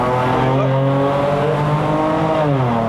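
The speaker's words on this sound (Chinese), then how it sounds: "这个有降档的" Lexus RC350 V6 Luxury sedan climbing a mountain road in Malaysia, its automatic gearbox downshifting as the engine note jumps up in pitch, a loud continuous drone heard from inside the car with no talking.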